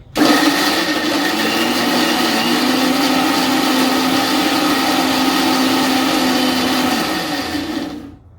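Mixer grinder running at full speed on a spice paste for an egg curry, a loud continuous motor whine and whirr that starts abruptly, holds steady for several seconds, then winds down and stops.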